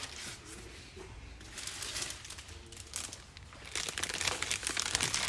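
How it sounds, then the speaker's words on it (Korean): A plastic vegetable packaging bag crinkles as bitter melon is rolled up and wrapped in it, giving soft close rustles that swell louder toward the end, with no talk over them. "이렇게 말아서 야채 포장 비닐에 담아서 보내드려요"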